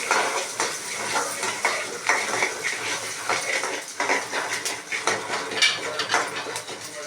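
Onions lightly sautéing in a pan give off a crackling, spitting sizzle close up, with a spoon scraping and tapping the metal in an uneven, busy rhythm.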